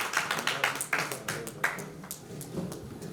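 A stage event at an astrology conference in 2021, with an audience breaking into scattered, uneven clapping as a woman doctor is welcomed on stage; the claps are moderately close and thin out toward the end.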